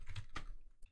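Quick keystrokes on a computer keyboard as commands are entered into a MongoDB shell, a short cluster of close, crisp clicks with no voices.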